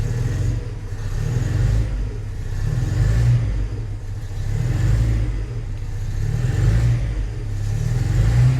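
Datsun 140J engine running rough after 20 years unused, with a steady low rumble that swells and eases in slow repeated waves as the gas is pumped, close and continuous with no talk.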